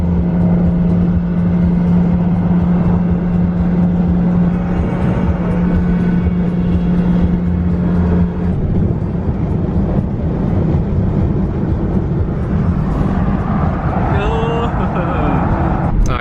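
BMW club cars cruise along back roads on a rally run, a steady engine and road drone with a held tone that fades midway, while a person talks over it throughout.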